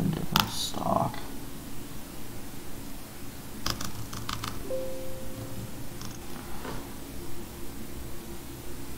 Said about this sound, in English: maybe if I type in a different stock.